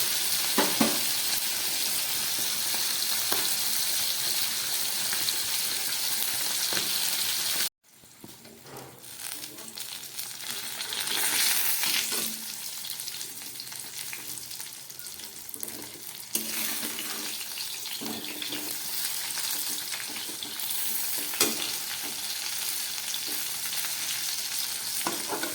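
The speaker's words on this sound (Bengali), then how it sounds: "মাছগুলো একদম ভাজা হয়ে গেছে, এবার আমি তুলে ফেলছি।" Fresh fish frying in a pan gives a continuous close sizzle that cuts off abruptly, then returns more softly with some watery, tap-like splashing and occasional clinks.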